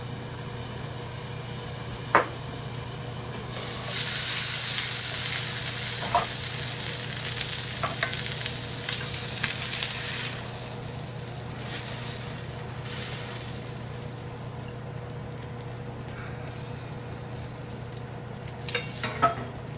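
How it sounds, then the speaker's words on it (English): A ribeye steak sizzles in a hot pan with melting butter, giving a steady broadband frying hiss that swells louder for a stretch midway, with occasional small utensil clicks and no talking. "By the time this steak is ready, that butter will melt."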